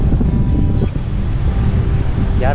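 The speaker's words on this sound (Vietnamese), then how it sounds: "Gió quá các bạn ơi, gió này, hồi này." Strong wind roars across the shore at Quy Nhon port as waves crash in, a loud, constant rumbling buffet with gusts hitting the microphone throughout.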